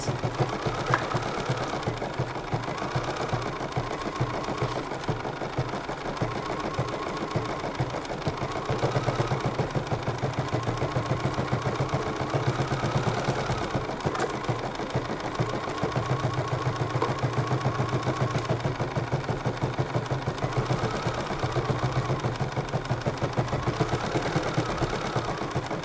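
An embroidery machine stitches magenta thread around the outline of a hoop, giving a steady, fast mechanical chatter at an even level for the whole stretch, with no talking.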